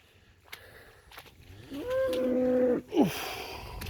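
Cattle moo on a rain-soaked, muddy farm: one long, loud, close moo swells and holds for about a second, followed by a shorter, sharply falling call, with faint rustling and movement between them.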